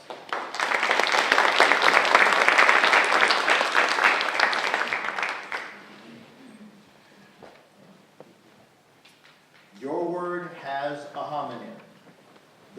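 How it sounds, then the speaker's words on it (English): Audience applause at a school spelling bee, a burst of clapping lasting about five seconds before fading into quiet room noise, followed by a voice speaking. "Round of applause."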